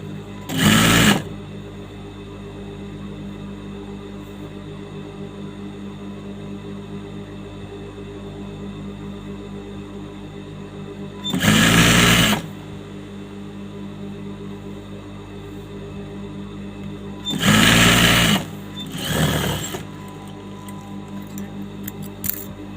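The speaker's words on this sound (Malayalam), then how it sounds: "മറ്റേ പീസ് അടിച്ച് സെയിം മെത്തേഡിൽ മടക്കി അടിക്കുക." Sewing machine stitching folded lining onto a chudithar top neck, running in three loud short bursts separated by long quiet gaps of faint room hum.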